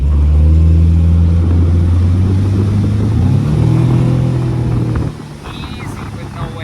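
A 1977 17-foot J-Craft boat engine revs under hand throttle, a loud steady drone rising in pitch midway before dropping off, with people talking over it.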